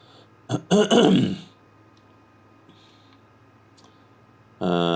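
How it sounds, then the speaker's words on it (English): A short burst of harsh throat-clearing coughs near the start, then quiet background hum inside a Cirrus Vision Jet cockpit before flight, with another loud noise cutting in at the end. "another coughing fit there"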